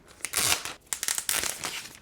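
Crinkly cardboard and paper rustle in bursts as a Mac mini M1 box slides out of its packaging, close and dry, with a short pause midway.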